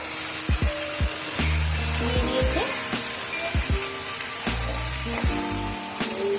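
Onions with ginger-garlic paste fry in a home kitchen pan, giving a steady close sizzle broken by repeated clanks and scrapes of stirring, with a few brief spoken words.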